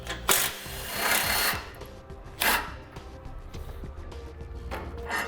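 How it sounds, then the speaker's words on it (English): A 16 mm socket wrench works two bolts loose on a 2015 Jeep Cherokee during a base plate install, giving rapid metallic ratcheting and rattling bursts that rise and fall at close range. "Now we'll take our 16 socket and take out these 2 bolts."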